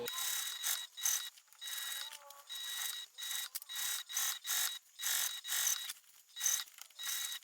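A sewing machine top stitches around a fabric bag, a light mechanical whir running in short bursts with brief pauses, close and fairly quiet, no voices.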